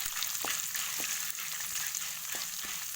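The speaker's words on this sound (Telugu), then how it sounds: "దీని తర్వాత ఎండుమిర్చి మంచిగా దూరగా నూనెలో వేయాలి." Dried red chillies fry in hot oil in a steady, close hiss, with a few faint stirring clicks over the sizzle.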